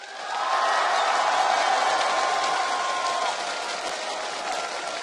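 A large esports tournament crowd at a League of Legends quarterfinal cheers and applauds loudly, the roar rising quickly, holding strong, then easing slightly as it continues.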